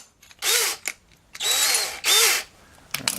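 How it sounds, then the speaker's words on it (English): A half-inch Milwaukee metal drill bit bores into steel while a Subaru lower ball joint remover jig is being built. The drill whines in three loud, close bursts of about half a second each, with short pauses between them and no talk. "it's a 1/2 inch metal Milwaukee drill bit."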